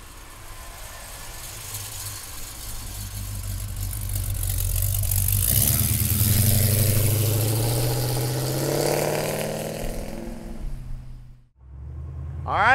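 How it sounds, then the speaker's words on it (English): A 1971 Chevrolet Chevelle with a big block engine idles, then builds into a long, swelling rumble that rises and falls before a brief drop and a sharp final rev, heard up close. "Let's take the 71 Chevelle for a ride. Big block power"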